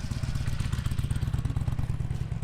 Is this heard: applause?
no